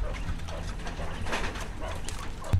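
Quail calling inside a farm barn, a steady run of soft cooing, chirping calls over a low background hum, fairly close and alone without talk.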